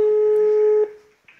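A single steady telephone tone from a recorded phone call, loud and clear for under a second before cutting off, followed by a brief faint second tone.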